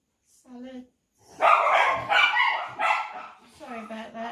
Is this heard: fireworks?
no